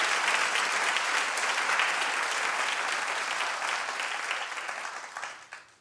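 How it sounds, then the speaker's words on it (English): A studio audience on a daytime talk show claps in a broad, full wash of applause that holds steady, then thins and fades out toward the end. "Clap if you understand what I'm saying"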